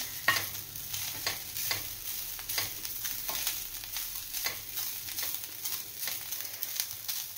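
Grated fresh coconut roasting in ghee, stirred steadily with a spatula scraping the pan at a regular beat over a soft continuous sizzle, close and moderately quiet, no voices.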